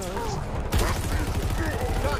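Rapid bursts of gunfire fill a firefight in the video game Halo Infinite, dense and loud, with a sharper volley cutting in partway through.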